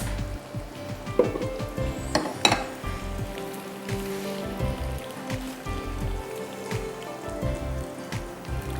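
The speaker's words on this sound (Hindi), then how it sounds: "ये जो हम तड़का कर रहे हैं ना अभी" Hot oil sizzles and crackles steadily as spices are tempered in it, with scattered sharper pops and spatters throughout, no voices.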